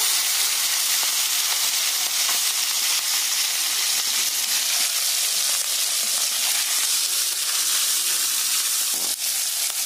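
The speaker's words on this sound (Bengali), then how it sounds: "এতে আমি নুন হলুদ মাখিয়ে রাখা মাছগুলো দিয়ে দেব।" Fish pieces rubbed with salt and turmeric fry in hot white oil, making a loud, dense, unbroken hiss that holds steady for the whole stretch, very close, with no voices.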